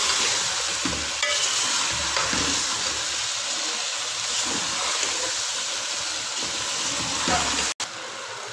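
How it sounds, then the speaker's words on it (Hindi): Eggplant and potatoes are stirred and fried together in a pan, making a steady, close sizzle with repeated scraping stirs and a brief cut near the end. "अब मैं इसमें बैंगन शामिल कर दूंगी और इनको अच्छी तरह से मिक्स करके भून लूंगी।"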